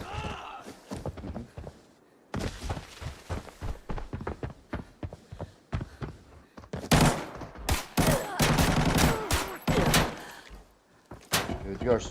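Gunfight in the shooter game Arena Breakout: rapid bursts of automatic gunfire and single shots, loud and close, coming in clusters with short pauses, with talk running over parts of it.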